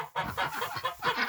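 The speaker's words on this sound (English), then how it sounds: "I got my little rooster" A small rooster clucks on a farm, a quick series of close, clipped clucks and throaty chatter in short bursts.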